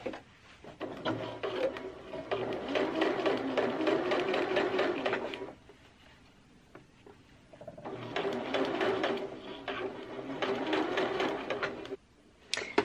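Sewing machine running long basting stitches at 5.0 stitch length along a circle skirt lining hem, two long steady runs with a quiet pause between and a brief final burst, close up.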